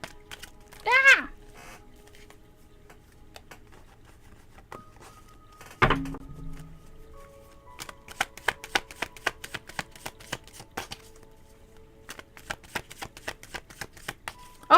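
Tarot cards being shuffled by hand in a quiet room, a series of crisp, quick riffling and tapping bursts in the latter half, preceded by a short vocal exclamation and a soft knock.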